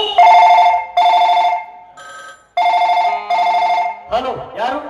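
A telephone ringtone sounds in loud, evenly spaced electronic bursts about a second long, with a short gap between them, before a voice comes in near the end.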